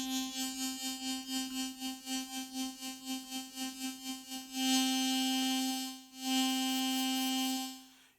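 A Korg Pa5x keyboard plays a sustained C4 using the ARP Summer Test sound, a bright harmonic synth tone that pulses rapidly at first, then holds steady with a brief dip and swell before fading.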